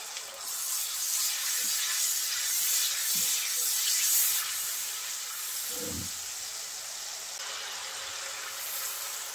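Spices frying in a pan with a splash of water added, for a spiced pointed gourd fry: a steady broadband hiss of steam and sizzle runs throughout, with a few soft low knocks of the pan or spoon.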